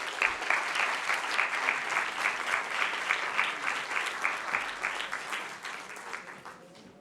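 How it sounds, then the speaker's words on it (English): An auditorium audience gives a closing round of sustained applause for the speakers, dense and steady clapping that slowly tapers off toward the end. "Please join me in giving a final round of applause to our speakers."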